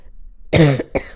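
Two harsh coughs from a sick man close to the mic, the first longer and rougher, the second short and sharp, after a brief quiet moment.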